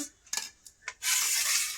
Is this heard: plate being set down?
yes